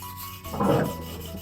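A knife for slaughtering is drawn across a whetstone in a single smooth, rasping stroke that swells and fades, close and fairly quiet, with no talk.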